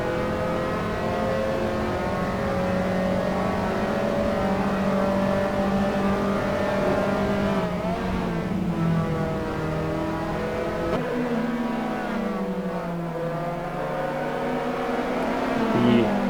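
Race cars at Donington in the Assetto Corsa sim racing game (SA simF3 series), engines droning and revving steadily together at close range, with pitch shifts as the cars accelerate and change gear.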